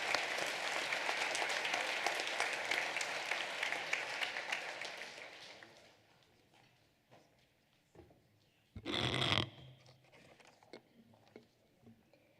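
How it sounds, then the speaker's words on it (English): At an elementary school awards ceremony, an audience applauds elementary students. The dense clapping lasts about six seconds, then fades into a quiet room with a short, sharp rustle or clatter and scattered small noises. "Let's give these boys and girls a round of applause."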